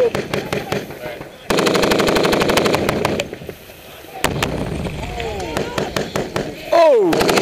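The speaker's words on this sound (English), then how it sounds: "It's basically a 9mm round that's a red tracer, and you'll see it marks the target." Rapid automatic gunfire from 9mm red tracer rounds rattles across a firing range in loud, dense bursts with brief pauses, followed by sharper single cracks, distant whistling tones and a few voices.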